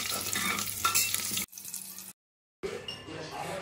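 Potatoes sizzle and fry in a pan while being stirred, a close, loud crackling hiss with scraping, cut by a brief quieter patch and a moment of silence before the frying resumes.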